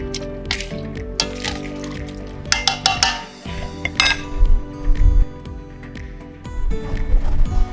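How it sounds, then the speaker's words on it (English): Water runs into a pot of potatoes for vegan stovies, with clinks and knocks of the pot and utensils over a continuous pouring wash in a kitchen. "you want to put some water in the pot until it completely covers the potatoes"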